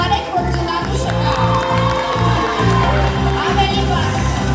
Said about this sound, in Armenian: Բարձր ծափահարեք